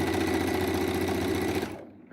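A sewing machine stitches log cabin quilt blocks with a fast, steady whirring chatter that shakes the table, close by, then stops abruptly near the end.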